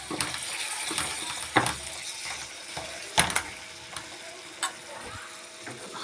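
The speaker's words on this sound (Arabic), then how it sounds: "نجيب البصله نقلبيها شويه كده." Meat and onions fry in hot oil with a close, crackling sizzle. They are stirred with a spoon, giving irregular scrapes and knocks against the pan.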